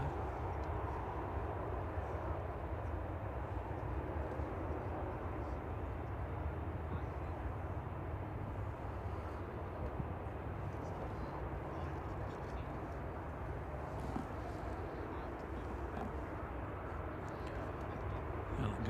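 A plane taxis at Manchester Airport, its engines a steady, moderately distant low drone that holds an even level with no breaks.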